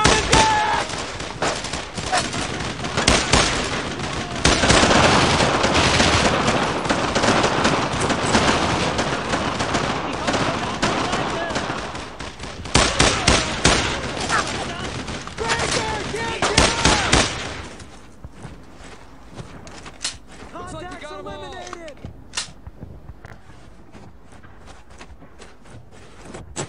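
Sustained gunfire in the World War II shooter Brothers in Arms, with dense rapid bursts and heavy volleys for most of the span that stop abruptly, leaving quieter battlefield ambience with shouted voices near the end.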